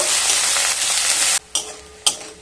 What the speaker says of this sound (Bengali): পেঁয়াজ আর রসুন হালকা ভেজে নেব